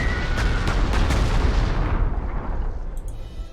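A level bomber strikes cavalry in the strategy game Panzer Corps 2: a rolling string of loud, booming artillery-like blasts that stack up, then fade into a dwindling rumble.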